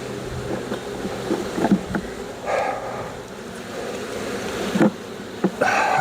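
Honeybees buzzing around an open Flow Hive corner hive during an inspection, a loud continuous drone close by with occasional knocks and handling clicks, no talk.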